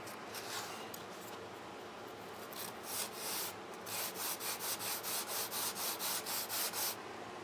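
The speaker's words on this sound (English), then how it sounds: "you're going to want to go ahead and sand this down and make it all nice and smooth." Steady rasping of sandpaper on a small wooden 1:12 scale mailbox prop on a sanding plate, starting as a continuous rub and settling into quick regular back-and-forth strokes, close and fairly quiet.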